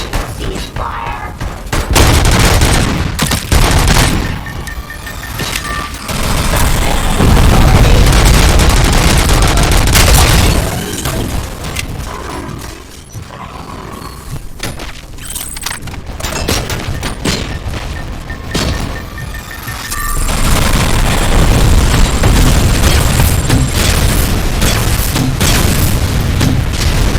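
Gunfire and explosions in the video game RoboCop: Rogue City, with loud continuous bursts, heavy booms and thuds. Dense combat noise runs steadily throughout, dipping briefly in the middle before surging again.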